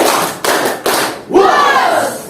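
A class of students does a rhythmic group clap, the Superman clap, during a morning lesson at school, heard as a few loud, sharp bursts of many hands together with voices calling out over them.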